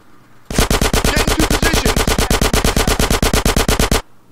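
A long, loud burst of rapid automatic gunfire in Grand Theft Auto: San Andreas, about thirty evenly spaced shots in roughly three and a half seconds, then it stops. No one speaks over it.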